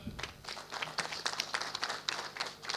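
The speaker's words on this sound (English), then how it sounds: "I think we can give a clap to Professor." A graduation ceremony audience claps together in steady, scattered applause, moderately loud and continuous for a few seconds.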